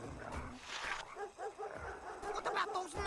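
Dogs barking in the Runaway 2 adventure game, short repeated yaps mixed with whimpers, heard over background music and game sound.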